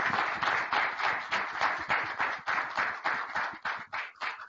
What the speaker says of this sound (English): Can we give all three of the finalists that you met today a big round of applause